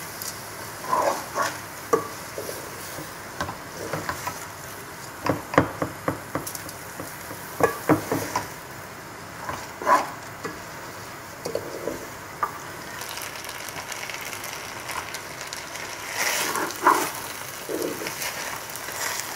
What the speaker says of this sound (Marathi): आतां न्हू रायस न्हू स्लोली मिक्स करूया